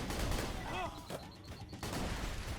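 Rapid bursts of gunfire from Maya's Tidal Wave weapon in the video game Borderlands 2, fired in a tight map, crackling loudly over busy combat noise with a faint voice underneath.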